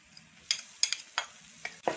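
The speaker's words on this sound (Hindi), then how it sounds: "अब इसमें अदरक और लहसुन का पेस्ट डालेंगे 1 चम्मच।" Ginger garlic paste frying with chopped onions in a pan for daal chana, a few short crackling sizzle bursts and spoon stirs spaced across two seconds, close and fairly quiet.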